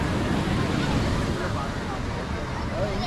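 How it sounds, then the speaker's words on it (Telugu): Ocean waves roar in a steady, close wash of broadband noise, mixed with wind buffeting the microphone and no clear break in the surf. "గర్జిస్తుంది ఒక సముద్రం."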